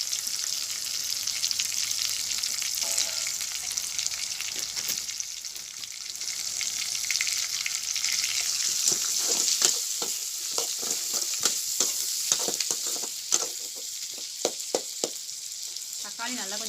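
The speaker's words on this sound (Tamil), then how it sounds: "தக்காளி நல்லா கொஞ்சம் வதங்கட்டும்" Onions, tomatoes, green chilli and curry leaves fry in a pan, a continuous sizzle that grows busier with sharp spattering pops and stirring clatter in the second half, with no one speaking.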